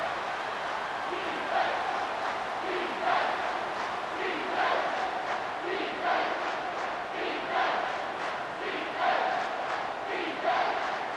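A packed stadium crowd roars steadily through a big third-down play in a College Football 25 bowl game between Wisconsin and LSU, with the noise swelling in repeated surges.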